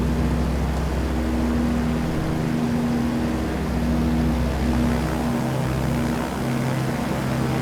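The Shark 600 propeller aircraft in Microsoft Flight Simulator drones steadily at full RPM, a loud, even engine-and-propeller hum with constant low tones running unbroken and close throughout.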